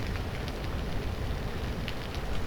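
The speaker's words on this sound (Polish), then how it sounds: "Może jest raczej deszczowa pogoda." Rain falls in the video game Vintage Story, a soft, constant patter of drops with occasional brighter splashes, moderately loud and steady throughout with no voices.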